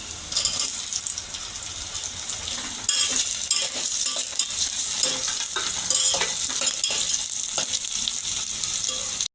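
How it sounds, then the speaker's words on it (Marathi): Tomatoes frying with browned onions in a pan, giving a loud, dense, continuous sizzle with occasional stirring scrapes, close up and without talk. "मित्रांनो कांदा आपला छान असा लाल झालेला आहे आता यात आपण टोमॅटो टाकून घेऊया"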